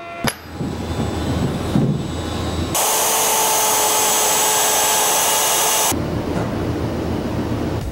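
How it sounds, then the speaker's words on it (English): A wood router routes out mortises for butterfly inlays in a dining room project, letting out a loud, steady high-pitched whine that runs for about three seconds without a break. Quieter shop noise comes before and after it. "I'm going to get the router set up and get ready to route out the mortises for these butterflies"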